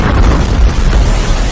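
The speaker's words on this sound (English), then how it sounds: "This guy was shooting a selfie video when a missile struck." A missile strike explodes in the war-torn city of Kharkiv, a loud, continuous roar of blast rumble filling the whole moment with heavy low-end force and no voices.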